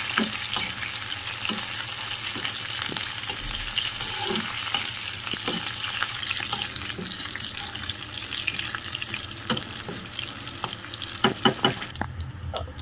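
Tomatoes frying with curry leaves in a pan for a tomato chutney, a continuous close sizzle with scattered stirring clinks and a few louder knocks near the end.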